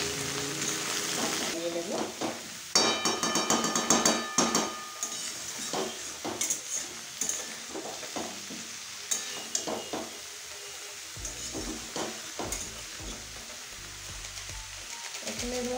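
Chopped mixed vegetables sizzle in a hot pan while a spoon stirs and scrapes through them in irregular bursts, close up, with brief speech over the frying.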